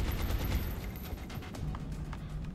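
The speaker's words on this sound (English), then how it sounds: "Just come to here and, like, shoot the SMG." SMG gunfire from the video game XCOM Long War, a dense burst of rapid shots at the start that trails into a low rumbling game backdrop with a few fainter reports.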